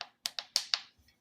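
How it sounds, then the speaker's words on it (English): Unsealed metal canning jar lid being pushed and flexing, four or five quick sharp clicky pops in a rapid uneven sequence, close and faint. "so if this lid was on here and it was not sealed, it would sound like this."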